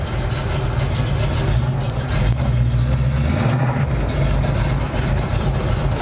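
Rebuilt engine of an abandoned race car running steadily, a loud, continuous low rumble with a throbbing idle and slight dips in pitch, close by and alone.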